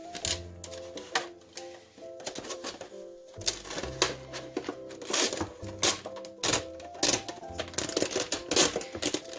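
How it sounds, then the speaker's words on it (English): Clear tape being pulled and wrapped around a cut plastic milk jug to seal it, making a run of sharp, crackly, sticky peeling bursts close up, with a steady tonal hum running beneath. "I'm going to be using some clear tape just to seal it back up"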